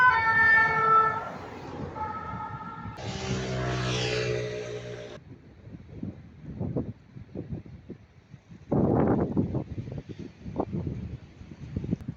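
A fire engine siren passes along a street in Montpellier. A loud wailing tone sweeps for about five seconds, then fades into city traffic and passing vehicles.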